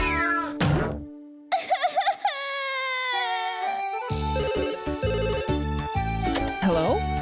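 A little cat meows in a high, wavering, crying voice several times across a busy cartoon soundtrack with music and sound effects, close and clear in places.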